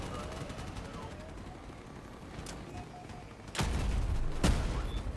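Video game gunfire: a faint shot sounds first, then two loud, close blasts about a second apart over a continuous low rumble.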